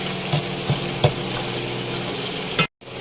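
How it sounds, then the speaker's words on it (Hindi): Tomato and mutton fry in a karahi for Peshawari charsi karahi, giving a steady close sizzle broken by a few soft stirring knocks, then a brief dropout near the end. "इसको मटन के साथ अच्छी तरह भूनना है।"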